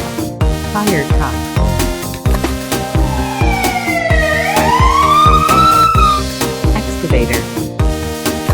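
A fire truck siren from a children's Pororo cartoon rises and falls in a long wail across the middle of the passage, layered over a bouncy, steady-beat children's music track.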